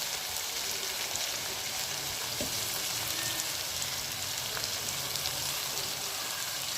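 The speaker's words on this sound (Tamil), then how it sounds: "இப்போ தக்காளி சேர்ந்து வதங்கணும்" Tomato and onion sautéing in a pan for South Indian puri masala potato curry, a steady soft sizzle and crackle of frying with faint occasional stirring taps.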